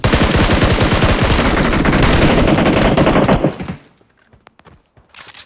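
Gunfight in the video game PUBG: loud, rapid sustained automatic gunfire for several seconds, then it stops abruptly, leaving a few faint scattered shots and near silence.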